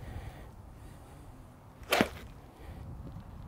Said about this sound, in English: if you heard the whoosh, where was the loudest whoosh?